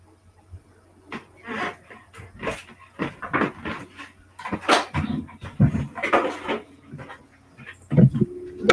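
Dogs whimper and pant in a home kitchen while a breakfast sandwich is being made, with scattered close thumps and clatter; soft whines come and go over about nine seconds.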